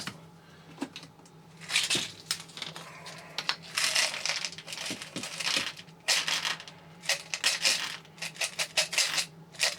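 Small fine-thread PC screws rattled and shuffled by hand in a container during a Lenovo ThinkCentre SSD upgrade, giving repeated bursts of close metallic clinks and scraping with short pauses between.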